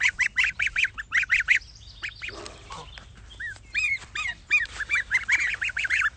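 Goslings in a garden honk in quick repeated bursts, close and fairly loud, with a short pause midway before the rhythmic peeping honks resume.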